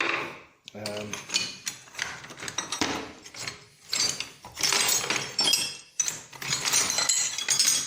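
Rusty metal hand tools such as wrenches, spanners and pincers clink and rattle together in a bucket as they are rummaged through, with close, irregular bursts of metallic clanking and scraping separated by short pauses.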